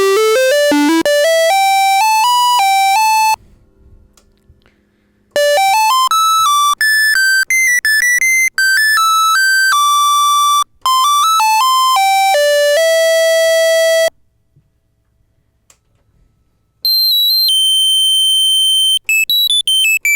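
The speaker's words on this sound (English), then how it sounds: "It's such a big, powerful square wave." A Moog Minimoog synthesizer's oscillator plays a big, loud square-wave tone. It sweeps and steps through pitches in long sustained runs, broken by a few short silences, with a high held note at the end.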